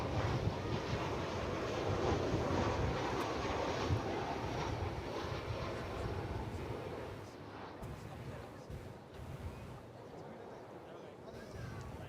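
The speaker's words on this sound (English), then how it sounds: "here comes American Flight 1449. Coming on down from Idaho in that 737-800" An American Airlines Boeing 737-800 landing at DFW airport: a broad, steady jet roar fills the scene, loud and continuous, with heavy wind buffeting the microphone and a slight fade toward the end.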